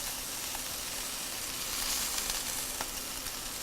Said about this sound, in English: So we're going to give it a nice sear on all sides, and I'm gonna drop it right on this cast iron pan.